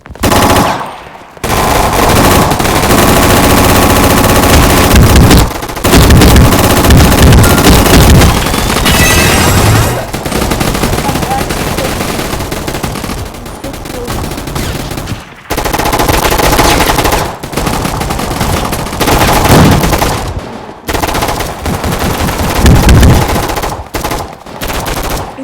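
Gunfire in a gun fight video game: loud, nearly continuous machine-gun bursts with booming shots, broken by a few short pauses, dense and close throughout.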